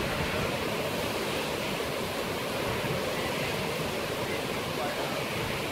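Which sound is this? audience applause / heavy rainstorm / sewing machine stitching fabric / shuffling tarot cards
heavy rainstorm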